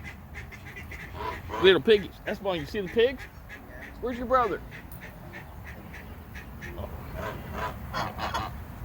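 Geese at a petting zoo give faint honks and quacks in the background while people talk nearby.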